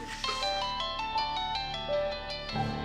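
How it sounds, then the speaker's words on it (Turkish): A mobile phone ringtone plays a bright, repeating electronic melody that fills the room steadily for about three seconds, with no voices over it. "Kimin bu telefon?"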